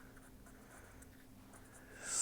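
Chalk or pen scratching steadily across a board during an antenna engineering lecture, a soft continuous writing sound with a faint hum beneath and a brief louder hiss at the end.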